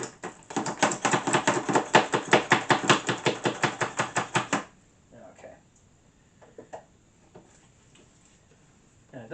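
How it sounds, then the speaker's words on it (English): Rapid, steady knife strikes chop onions on a cutting board for a beef stew, about twenty close, even thwacks in a row before stopping, followed by faint kitchen handling noises. "It doesn't have to be perfectly minced. Some of it could be left long."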